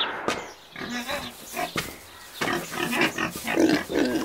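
Several pigs grunting and oinking in bursts, close by, with snorty squeals overlapping at irregular intervals.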